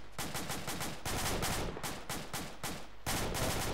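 Rapid automatic gunfire from a military shooter video game, delivered in several close, loud bursts separated by brief gaps, with no talking over it.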